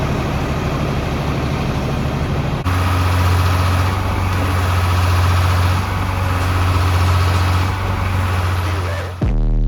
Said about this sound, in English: All right, here comes the concrete truck.